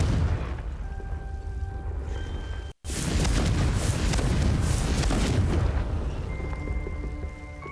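A Confringo blasting spell going off in Hogwarts Legacy, a heavy booming explosion with a rumbling, crackling burst after a brief cut to silence, then a tail of game music tones.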